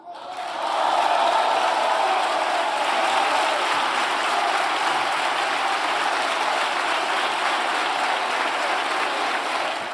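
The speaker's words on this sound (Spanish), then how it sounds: "el gran abrazo, el aplauso de todos los compañeros políticos de España al presidente Pedro Sánchez" Sustained, loud applause fills a parliament chamber after Pedro Sánchez's investiture vote, a dense roar of many clapping hands from a large crowd that swells and holds steady throughout.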